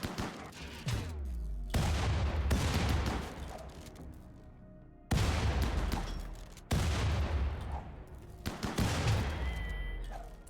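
Shotgun blasts and grenade explosions in the RimWorld video game, heard as several heavy booming reports spaced a second or two apart, each with a deep decaying rumble.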